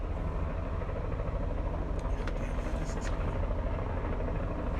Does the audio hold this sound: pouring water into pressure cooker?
no